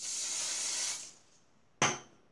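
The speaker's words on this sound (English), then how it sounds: "So you spray a little hairspray on it." Hairspray from an aerosol can misted onto a wavy bob in one steady hiss of about a second, then a brief sharp second burst, close up with no talking.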